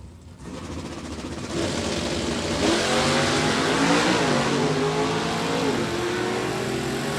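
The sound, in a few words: drag race cars launching, Johnny Dekema's Corvette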